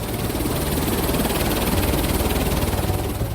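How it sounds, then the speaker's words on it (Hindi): Helicopter in flight during a ride near Iguazu Falls, a loud, close, steady throbbing rotor chop with engine roar filling the whole few seconds, no talking. "इसके बाद हम आपसे शेयर करेंगे अपनी पहली हेलीकॉप्टर राइड का एक्सपीरियंस।"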